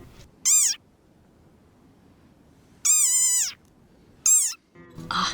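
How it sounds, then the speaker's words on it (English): A desert rain frog gives three shrill, squeaky calls separated by pauses, loud and close against a quiet background, with a little rustling at the end. "one of my favourite desert critters, the desert rain frog"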